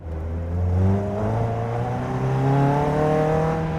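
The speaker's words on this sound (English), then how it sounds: "The power and the noise you're getting from your right ear, from the exhaust, just incredible." A Caterham CSR sports car's exhaust roars as the engine revs up under acceleration, loud and close, with a rising, rumbling drone.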